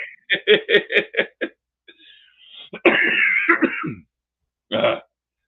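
A run of rapid, rough coughs comes up close, followed after a short pause by a gravelly throat clearing and more hacking, ending with one last brief cough.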